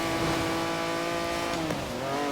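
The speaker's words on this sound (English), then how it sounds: "I can hear the car squealing" A car's engine drones steadily at high revs in Forza Horizon 4 on Fortune Island, a sustained tonal whine with a brief pitch dip near the end that could be tyre squeal or a gear change, loud and without talk.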